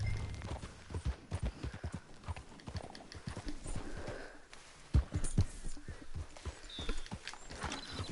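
Horse hooves clip-clop steadily in Red Dead Redemption 2 Online, a fast, close rhythmic trot of hoofbeats with a faint whinny and bird chirps in the background, no talk.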